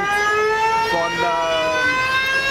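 A Cupra car's drivetrain gives off a loud, steady high-pitched whine from differential and gearbox friction, rising and shifting in pitch as it accelerates, with talk over it.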